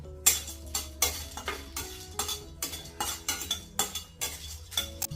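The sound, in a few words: lightly roasting cardamom in a pan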